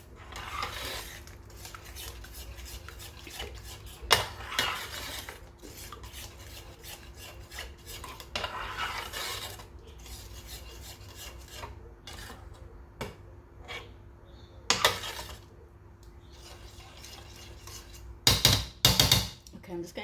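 Paneer curry mixed in a pot with a utensil, heard as repeated metallic scraping, rubbing and clanks against the pot with a few louder knocks, over a low hum and quiet background.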